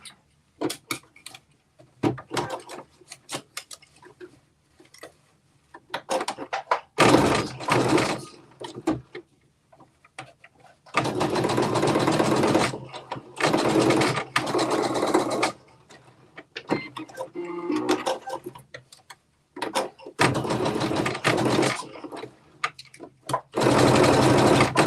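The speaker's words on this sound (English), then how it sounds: "now I'm going to top stitch on the edge these pleats down" A sewing machine top-stitching pleats down along the edge on shorts made from a KnowMe ME2069 top and pants pattern, running in several loud, sustained bursts separated by quiet gaps with soft handling clicks.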